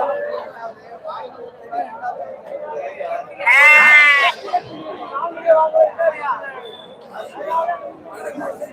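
A kid goat at the Ettayapuram Friday goat market gives one loud, drawn-out bleat close by, set against a steady babble of crowd chatter and nearby voices.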